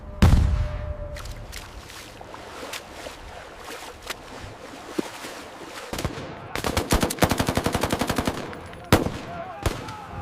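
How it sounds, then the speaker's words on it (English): German machine guns firing in a 1944 Battle of Arnhem scene, with scattered single gunshots and then long, rapid, loud automatic bursts, one heavy boom at the start, and the firing continuing in bursts toward the end. "German machine guns dominate the high ground."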